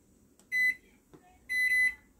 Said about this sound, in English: Okay, pop that in the microwave.